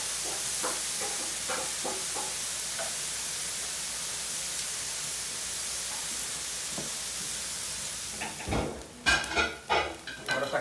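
Beef frying on a plough-disc pan over a wood fire gives a steady, even sizzle, with scattered clicks and pops, then louder scraping and stirring clatter near the end.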